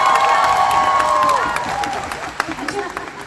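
At a fan event with actors Wahaj and Yumna, a crowd claps and cheers loudly, with excited shouts and voices over the applause as it gradually fades.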